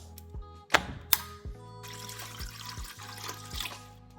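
Distilled water poured into a half-gallon batch of nickel stripping solution: a couple of sharp clinks, then a steady close trickle and splash that runs for a few seconds.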